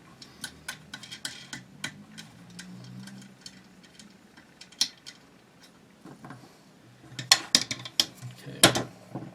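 Takedown section of a Chiappa Little Badger rifle being unscrewed by hand, a run of small clicking, ticking metal-on-metal turns that grow louder and busier near the end, with no talking.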